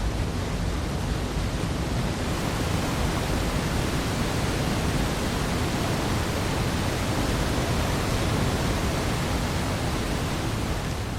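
Horseshoe Falls at Niagara roars as a dense, unbroken wash of rushing water heard from a boat sailing into the torrent and mist, loud and constant throughout.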